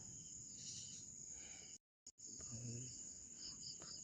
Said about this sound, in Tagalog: mga kuliglig at ibon yung maririnig natin dito sa buong lugar na to